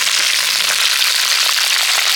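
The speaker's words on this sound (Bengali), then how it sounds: "তেল গরম হয়ে গেছে, এবার ঢ্যাঁড়সগুলোকে আমি তেলের মধ্যে দিয়ে দেব।" Okra hisses and crackles in hot mustard oil, a loud, dense, steady sizzle with no pauses and no voices.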